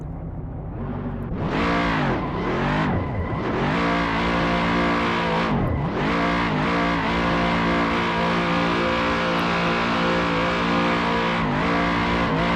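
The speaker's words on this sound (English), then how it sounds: "Some picturesque donuts to end the video." A Pagani Huayra BC in a racing video game, drifting and spinning donuts, with its engine surging and dipping in repeated revving swoops and tire squeal underneath, loud and continuous.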